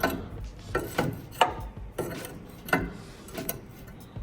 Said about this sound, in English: It might be easier to use an open-ended ratchet, open-ended wrench.